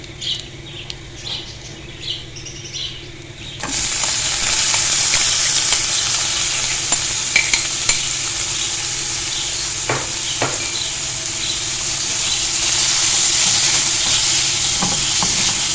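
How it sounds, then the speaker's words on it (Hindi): Marinated chicken tipped into a pan of fried garlic: quiet scraping and small taps at first, then a loud, close, sustained sizzle with stirring clicks and scrapes over it, no voices. "ये जी लहसुन हमारा फ्राई हो गया। अब हम इसमें डाल देंगे मैरिनेट किया हुआ चिकन।"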